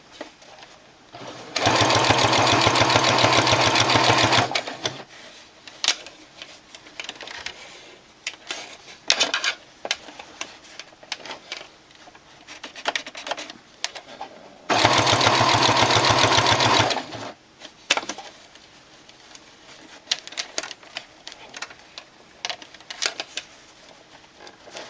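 A sewing machine stitches bias binding along a fabric edge in two loud, steady runs of a few seconds each, separated by quieter handling sounds and pauses.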